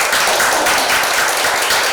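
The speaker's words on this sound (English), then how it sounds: "I want to give us a round of applause." Dense group applause fills the room at a community storytelling gathering in Burnet Woods, loud and continuous with no breaks, and no voices stand out above the clapping.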